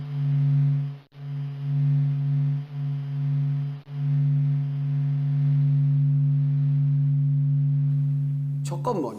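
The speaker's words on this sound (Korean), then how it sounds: "이제부터 들어볼 소리는 관측 장비에 기록된 파동을 소리로 변환한 것입니다." The sun's plasma waves recorded by observation instruments and converted to sound: a steady low electronic hum with buzzing overtones drones on, dipping briefly twice, then ends in a short crackle of static.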